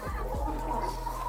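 Chickens in a coop give a few low, gurgling clucks, fairly close and soft, over a quiet steady background hum, with no talking.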